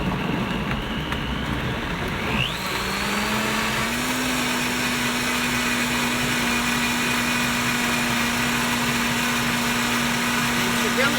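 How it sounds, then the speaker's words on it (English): A Vitamix blender mixes a protein smoothie, a loud steady motor roar with a whining tone that climbs in pitch twice as the speed is raised, running continuously from start to finish. "So this is a Vitamix, so it's going to get noisy."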